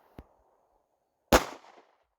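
Two gunshots from a Springfield Hellcat 9mm pistol fired outdoors: a short, sharp crack, then about a second later a louder, closer report with a brief echoing tail.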